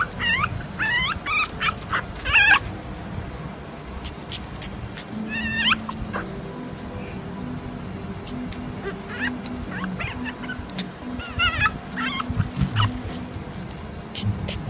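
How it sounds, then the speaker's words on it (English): A puppy whimpers and whines in repeated high, wavering cries, close and fairly loud, with short pauses between bursts and a low background hum throughout. "This is probably the cutest puppy you'll ever see in your life."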